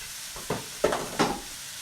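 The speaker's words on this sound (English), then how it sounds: "Give it a good stir." Vegetables stirred in a hot sizzling pan, with three or four distinct scraping strokes over a steady frying hiss, close and moderately quiet.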